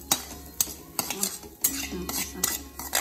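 Semolina roasting in ghee in a pan is stirred with a spoon, giving rhythmic metallic scrapes and taps at an even pace, close by and with no talking.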